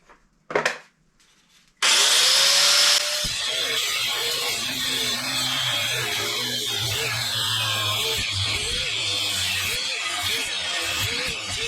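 DeWALT angle grinder throwing sparks, a brief rising whine as it spins up, then a loud sustained grinding roar that continues steadily to the end.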